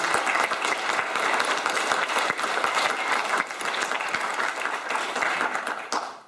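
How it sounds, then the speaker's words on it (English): Audience applause for event sponsors, a dense and even wash of many hands clapping throughout, steady in loudness before tapering at the close. "So can we give a round of applause for our sponsors?"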